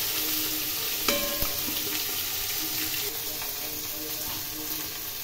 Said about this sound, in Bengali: এখন খুব ভালো করে আলু, বেগুন এবং পেঁয়াজ আমি হালকা আঁচে নেড়ে নেব।